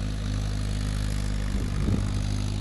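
A tractor engine drones steadily and close by in a paddy field being ploughed, a loud continuous low rumble with a slight surge near the end.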